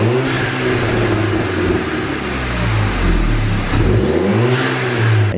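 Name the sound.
Audi A5 revving with blow-off valve and intake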